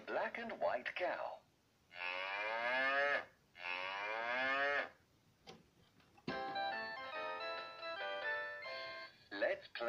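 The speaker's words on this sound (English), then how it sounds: "The black and white cow." A Chicco talking farm toy's electronic moo sounds twice in drawn-out bellows, followed by a tinkling chime melody, with brief recorded speech at the start and end.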